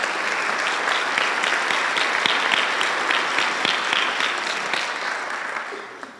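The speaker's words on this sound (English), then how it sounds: "Definitely deserves applause." A board of education budget meeting audience breaks into sustained applause, a dense, steady wash of clapping from many hands that tapers slightly at the close.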